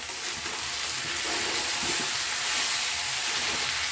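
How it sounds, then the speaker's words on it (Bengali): Spiced egg and potato curry stirred in a pan, a constant dense sizzle of frying with faint scraping of the spoon, close and steady throughout. "ওটা দিয়ে নাড়িয়ে দিচ্ছি একটু ভালো করে"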